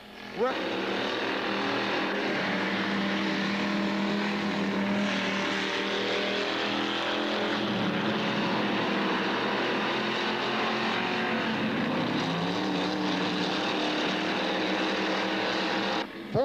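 Street stock race car engines roaring steadily at high revs on an oval track, several cars sounding together, with a commentator's voice running over the noise.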